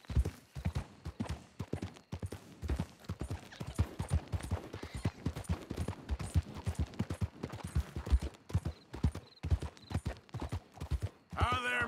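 Steady clip-clop of horse hooves plodding in a regular rhythm throughout, fairly close, with occasional voices and other game sounds mixed in, in Red Dead Redemption 2.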